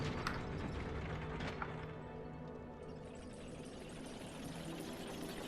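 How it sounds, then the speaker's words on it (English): A Dark Souls III elevator mechanism grinds and rumbles as it moves, a steady low mechanical drone with faint creaks and clanks, continuous and fairly loud with no voices. "go down this elevator, hit the lever, send it back up"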